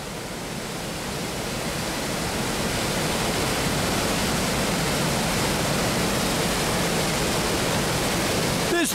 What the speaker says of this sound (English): hopefully you can hear the roar of the water